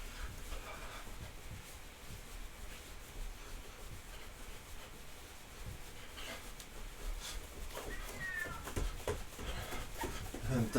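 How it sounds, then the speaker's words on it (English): A house cat moves close by, rubbing and shuffling with soft scratching, then gives a few short meows toward the end against a quiet indoor room. "And that's my cat again."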